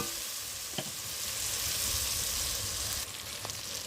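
Tomatoes with salt fry in a pan, a close continuous sizzle with a few sharp crackles and pops over the top, alone without voices.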